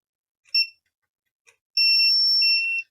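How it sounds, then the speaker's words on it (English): A multimeter checking a laptop board for ground gives a short chirp, a tiny tick, then a long steady high-pitched continuity beep held for about a second in otherwise quiet surroundings. "We'll get the machine that goes beep"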